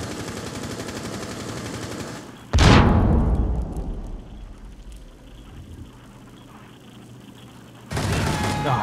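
Gunfire in Rainbow Six Siege: after a stretch of steady ambient noise, one loud, sharp shot or burst lands and decays slowly, then a second, denser burst of noise follows near the end.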